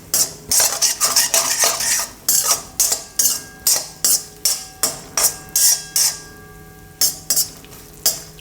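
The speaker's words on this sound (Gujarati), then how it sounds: "એમાં આપણે આ ડ્રાયફ્રૂટનો ભૂકો જે કર્યો એને શેકી લેવું" Powdered dry fruit roasts in desi ghee in a pan for a winter kheer, stirred with a metal spoon: rhythmic scraping strokes repeat steadily, close and clear, with a faint sizzle between them.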